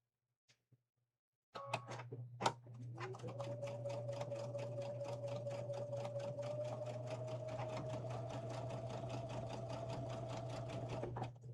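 A sewing machine stitches quilt pieces, opening with a few faint clicks before the motor starts up, then running at a steady pace in a continuous close, rapid needle clatter with a constant hum underneath for about ten seconds.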